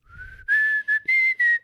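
A person whistles a few short, wavering tones in uneven bursts, close and fairly loud, like someone who struggles to whistle well.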